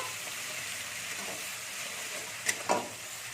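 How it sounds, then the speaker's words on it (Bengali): Garlic paste fries lightly in oil for a fish curry with peas and eggplant, giving a steady soft sizzle with two brief clinks near the end. "এর মধ্যে আমি রসুন বাটাটা দিয়ে দিচ্ছি রসুনটাকে একটু হালকা করে ভেজে নেব"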